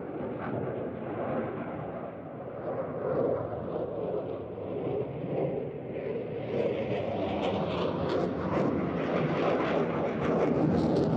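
A Eurofighter Typhoon jet roars past at a NATO Days air show, a dense, loud, continuous engine rumble and hiss that builds slightly toward the end, with no clear talk.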